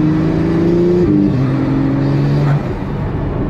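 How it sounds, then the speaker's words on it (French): A Pagani Utopia's biturbo engine drones loudly and close up, its pitch stepping down twice like gear changes under steady acceleration before the roar eases slightly near the end. "La sonorité du moteur est exceptionnelle, mais après c'est un biturbo."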